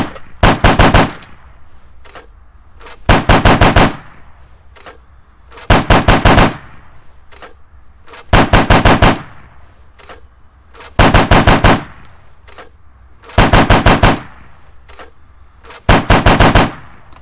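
Heavy 12.7mm APDS machine-gun fire in Arma 3 comes in six loud, rapid bursts, each roughly a second long, separated by quiet pauses with faint ambient background and no talk.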